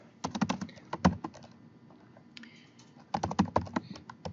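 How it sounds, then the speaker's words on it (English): Someone types on a computer keyboard at a desk, entering commands in Stata. Two close bursts of rapid key clicks are separated by a brief pause. "I am going to be typing into the command line"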